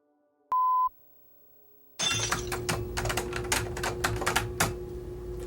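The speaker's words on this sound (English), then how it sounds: "I'm typing up a resume." Rapid typewriter keystrokes clatter in an uneven, busy rhythm after a short electronic beep and a brief silence, close and fairly loud, with no voices.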